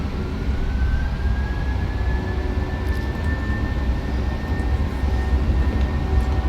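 Boeing 737-800 jet engines spooling up to takeoff thrust on the runway, a loud steady roar with a rising whine heard from inside the aircraft, continuous with no voices.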